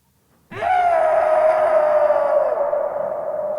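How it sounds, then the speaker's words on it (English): A single sustained, processed scream with a strong steady pitch, loud and alone, holding for about three seconds before tapering slightly. "Screams."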